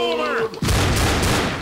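A loud burst of gunfire erupts in the zombie shooter Left 4 Dead, a dense crackling volley following a short stretch of tonal game sounds and fading noise, with no talk over it.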